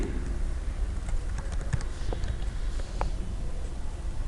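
Keys clatter on a computer keyboard in short, irregular bursts of close, moderately loud typing over a low background hum, with no talking.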